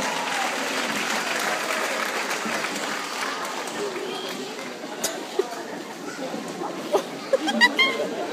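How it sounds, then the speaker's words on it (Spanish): Party guests at a quinceañera celebration applaud together, a broad wash of clapping mixed with crowd chatter, with a few sharper claps and bumps standing out near the end. "que vengan esos aplausos más fuerte"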